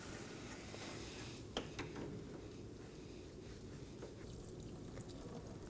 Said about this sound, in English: Now you can see it's dripping.